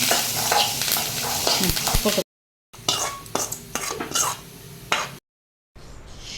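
Food being stirred and turned in a pan while making coconut rice, with close scraping and clinking of a utensil against the pan and a faint sizzle, coming in short bursts separated by brief silent gaps.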